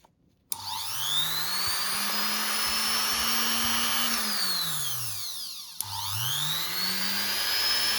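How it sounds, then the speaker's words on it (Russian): Rotary tool fitted with a homemade grinding burr whines up to speed, holds a steady high-pitched hum, winds down briefly, then spins up again, close and loud. "Шарошка готова. Вставляем в бормашинку."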